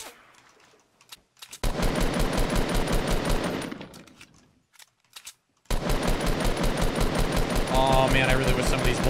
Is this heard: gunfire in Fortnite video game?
yes